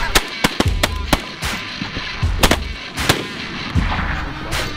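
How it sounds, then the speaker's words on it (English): Shotguns fire during an outdoor goose hunt, with several loud close blasts in an irregular volley over nearly five seconds, some shots close together, each with a deep boom and echo, and no talk. "Good shooting, guys."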